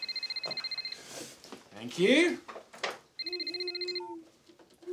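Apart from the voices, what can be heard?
mobile phone ringing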